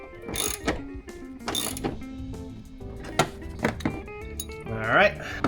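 Ratchet clicking in short bursts while snugging bolts on a Ford F-150 washer fluid reservoir, with metallic thunks and scraping between strokes and someone talking over much of it.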